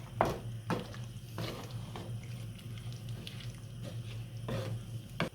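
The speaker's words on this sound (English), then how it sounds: "So I'm adding in the gunga peas. Giving that a really good stir." A spoon stirs pigeon (gunga) peas in a pot of Caribbean curry, giving soft wet slushing and a few knocking scrapes over a low steady hum, quiet and close.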